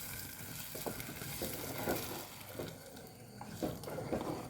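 Kootu curry for an Onam feast stirred in a pan: soft, wet scraping and faint bubbling sizzle with a few light knocks, quiet and continuous, no talking.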